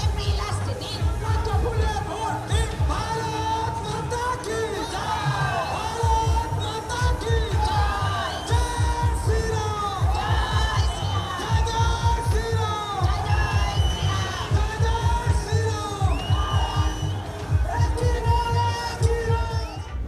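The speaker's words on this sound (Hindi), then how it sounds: "ओहो, कितनी भीड़ है।" A large crowd at a Home Minister's road show in Amdanga, with flowers showered on the crowd, cheers and shouts loudly and continuously, with rhythmic drumbeats pounding beneath the roar throughout.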